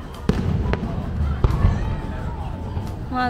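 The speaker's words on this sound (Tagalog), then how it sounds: "they doing fireworks here every weekend" Weekend fireworks in Japan pop in several sharp, separate bangs over a murmuring outdoor crowd, a few seconds apart and moderately distant.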